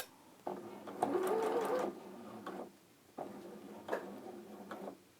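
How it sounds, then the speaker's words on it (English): Computerised sewing machine stitching a straight seam on dressmaking fabric, a close rapid mechanical whir in several bursts separated by short pauses. "So straight down that line, and I'm going to remove the pins as I go."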